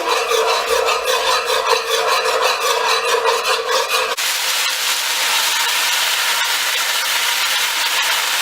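Chicken pieces in a pot for Trinidad stew chicken are stirred as they brown in darkening sugar, giving a loud, steady scraping and rasping texture with constant sizzle, close up and with no talking.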